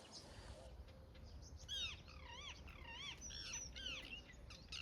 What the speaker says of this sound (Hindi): तोते देखो, तोते लड़ रहे